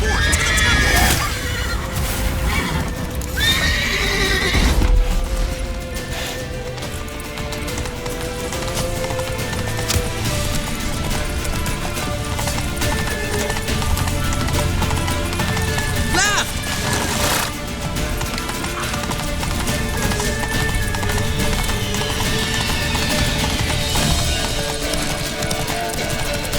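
Horses in The Witcher 3: Wild Hunt galloping with rapid clip-clop hooves and repeated loud neighs and whinnies, amid shouting voices and battle commotion in a tense escape.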